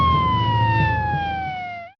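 An ambulance siren in a political ad sweeps past in a single steady wail that slides downward in pitch as it goes by, then cuts off abruptly.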